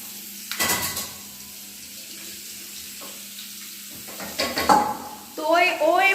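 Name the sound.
potatoes frying in a pan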